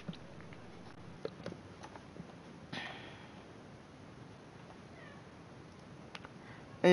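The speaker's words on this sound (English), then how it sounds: "And yes, that was my cat that you just heard." A pet cat meows a few times nearby over quiet room noise, with faint rustling between the calls.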